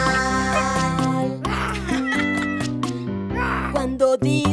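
A cartoon cat meows in a children's animal song, the cries sitting within bright sung music and instruments that run steadily throughout.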